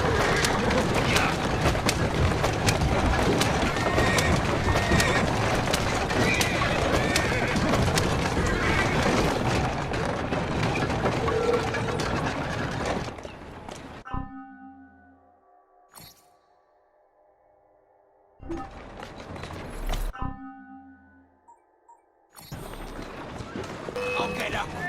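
Horse neighs and clopping hooves from the video game Assassin's Creed Syndicate ring out over a dense, loud game soundscape, then thin into sparse, quieter bursts; a voice talks along with the game.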